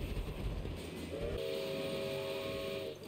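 Steam train in the LittleBigPlanet 3 video game: a rumbling rail clatter joined midway by a long, steady steam whistle that sounds for a couple of seconds before cutting off.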